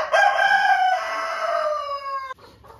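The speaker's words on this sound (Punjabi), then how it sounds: "ਅਰਮਾਨ ਅਰਮਾਨ ਆ ਮੁਰਗੇ ਤੋਂ ਡਰ ਲੱਗਦਾ ਤੈਨੂੰ?" A pet rooster in a backyard gives one loud, close, drawn-out crow that holds steady before breaking off, followed by faint background noise.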